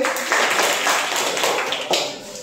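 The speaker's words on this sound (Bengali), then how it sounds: "এক্সিলেন্ট, তার জন্য একটা হাততালি হবে" A classroom of students claps for a classmate in a steady, close patter of hands that stays even and continuous throughout.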